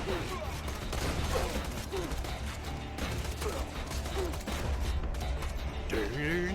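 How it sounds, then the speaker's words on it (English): Autocannon fire shredding a character in Borderlands 2, a dense, continuous mechanical rattle of rapid shots running throughout, loud and close, mixed with game music and vocal sounds. "that was Cloud getting absolutely shredded by autocannon fire"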